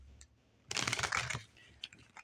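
Tarot cards are shuffled in a quick riffling burst lasting under a second, close and crisp, followed by a few softer card taps and slides in a quiet room.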